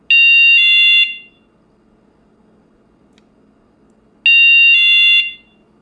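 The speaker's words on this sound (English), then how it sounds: "So as an intruder alarm, it's going to make a whole lot of racket" Piercing electronic beeps from a METAK window and door alarm set to intruder mode, loud and close, sounding in two bursts about a second long separated by a few seconds of near silence.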